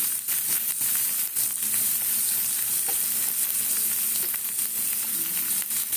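Paneer frying in butter and being stirred, with a steady close sizzle throughout and scraping stir strokes over it, no talk.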